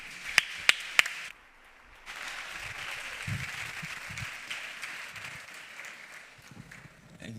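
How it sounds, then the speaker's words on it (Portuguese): Applause rises at a national conference after a few sharp, isolated claps, then settles into a moderate, continuous patter of clapping hands from a seated audience, heard at some distance. "Uma salva de palmas para ele."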